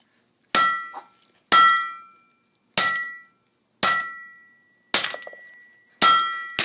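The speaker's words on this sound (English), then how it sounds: "pound them stuck with a hammer" A hammer pounds wire ends into a Kindle: six sharp, ringing metallic blows spaced about a second apart, each loud and close with a short decaying clang.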